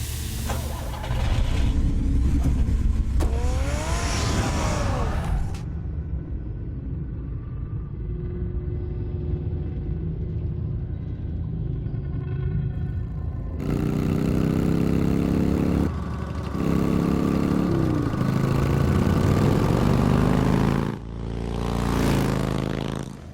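The Batmobile's engine rumbles and idles, then revs in a Telltale Batman game, a steady low drone broken by rising pitch sweeps and a sharp cut near the middle before roaring again.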